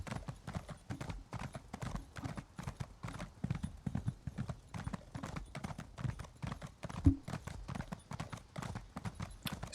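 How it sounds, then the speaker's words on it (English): Horse hooves clip-clop in a steady galloping rhythm while riding in the game Elder Scrolls Online, close and continuous, with one brief louder thump partway through. "I want to get on my horse."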